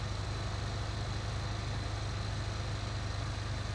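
A tractor giving hay rides in Farming Simulator 19 on the Chellington Valley map, a steady low engine drone with a constant rumbling hum that runs unbroken throughout.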